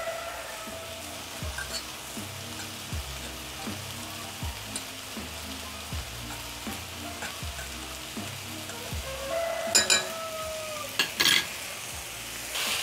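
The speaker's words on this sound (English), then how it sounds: "I'm using low flame to saute my cabbage." Cabbage sautéing in a pan over a low flame, with a steady soft sizzle and regular stirring scrapes, followed by a few sharper clinks of utensils near the end.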